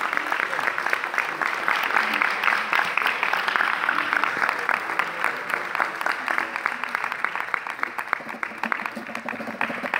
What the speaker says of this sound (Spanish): Muchísimas gracias por esos aplausos para Jesús Suárez.